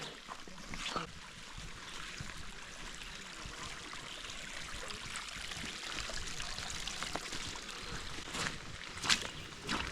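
Waterfalls stream down the rock walls of a steep railroad cut, a steady broadband wash of running water with a few louder splashes, no talking.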